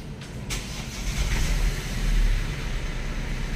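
A Hyundai Accent with a dual-clutch transmission fault starts up while stationary with the brake on, the engine turning over and settling into a low, steady idle rumble nearby.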